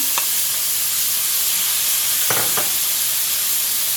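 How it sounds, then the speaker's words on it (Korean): Meat, onion and kimchi stir-frying in a pan for a kongbiji stew give a steady, close sizzle and hiss throughout, with a couple of brief scraping stir sounds near the middle. "고기가 표면에 조금씩 익었다 싶으면 김치도 같이 넣고 볶으세요."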